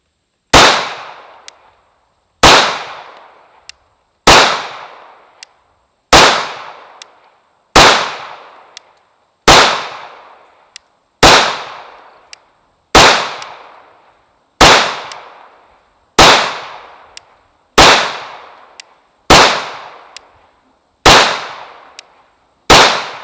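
A Sig P229 Legion pistol fires at a target outdoors: about thirteen sharp, loud shots at a slow, even pace, each followed by a short decaying echo, with no talk.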